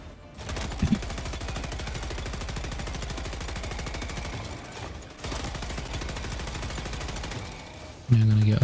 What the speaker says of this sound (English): And machine gun too.